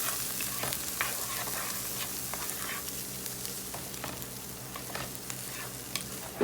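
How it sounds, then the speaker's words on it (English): Garlic being stirred into a sweet potato and bacon hash frying in a pan, with a steady sizzle broken by repeated scraping and clinking strokes of the utensil, close and clear. "And we're just going to stir that all together."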